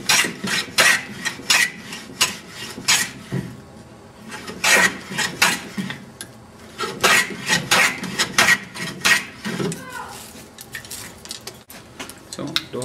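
A freshly sharpened hand plane shaves a piece of wood in repeated rasping strokes, close and fairly loud, in uneven bursts with short pauses and no talk.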